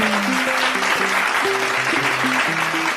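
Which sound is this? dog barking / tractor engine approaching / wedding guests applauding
wedding guests applauding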